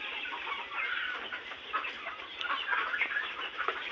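Farm broiler chickens clucking in a poultry shed, a soft, continuous chorus of overlapping clucks and chatter at moderate distance, with no talking.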